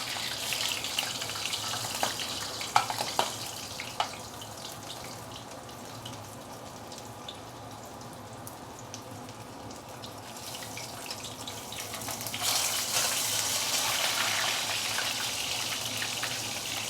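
Fish deep frying in hot oil in a stainless steel wok gives a steady, close sizzling hiss that swells louder near the end, with no voices.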